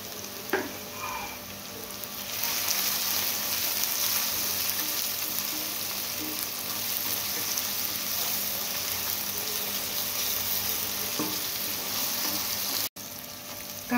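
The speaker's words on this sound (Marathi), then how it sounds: "कांदा आपला लालसर झालेला आहे। टोमॅटोही व्यवस्थित आपला शिजला गेलाय।" Chopped onion and tomato frying in a hot pan for anda bhurji, a steady loud sizzle with occasional scraping stir strokes, continuous and close, with no talking.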